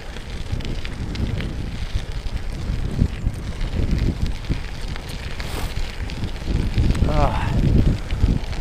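Wind rushing past the microphone while riding a GMC Denali bicycle on the Katy Trail in Missouri, a loud, continuous buffeting roar that fills the whole clip.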